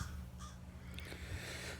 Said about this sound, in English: did you see a crow?